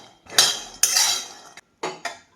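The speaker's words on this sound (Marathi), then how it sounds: "आता हे शेंगदाणे गॅसवरती मी खरपूस असे भाजून घेणार आहेत." Peanuts dry-roast in a pan over low gas while a spatula stirs them, making four short, loud scraping and rattling bursts against the metal, close up.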